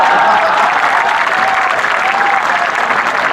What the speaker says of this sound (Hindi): एक बार फिर मेरे लिए इसी बात पर तालियां बजाएं